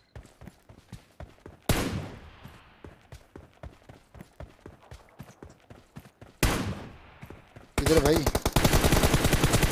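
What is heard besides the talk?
gunfire in a video game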